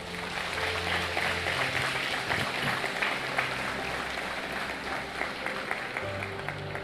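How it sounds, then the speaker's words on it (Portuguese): Church congregation applauding for Jesus, dense sustained clapping filling the room at an even level, with low organ or keyboard tones sounding underneath. "Vamos aplaudir a Ele"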